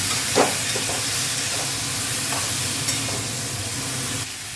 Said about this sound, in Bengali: আমগুলো দিয়ে খানিকক্ষণ নাড়াতে হবে।